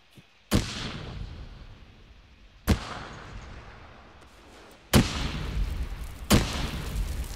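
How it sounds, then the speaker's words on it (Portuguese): Grenade blasts in the military shooter Arma 3, four loud booming detonations spaced a couple of seconds apart, each followed by a long rumbling decay, with no voices. "Nossa, o cara jogou granada por ali."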